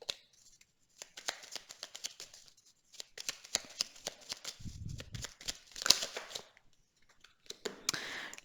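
Tarot cards being shuffled and drawn by hand: crisp papery riffles, snaps and flicks come in irregular close bursts with short quiet gaps, plus a brief soft low rumble midway.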